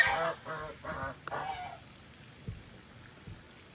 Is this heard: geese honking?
yes